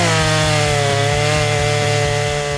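Battery-powered 82-volt chainsaw cutting through wood, a steady loud motor whine with a rhythmic chugging pulse as the chain bites, continuous and close throughout.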